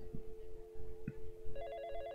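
A telephone rings in a call center video game, with a steady electronic tone and a trilling ring joining partway through, while soft low thumps sit underneath.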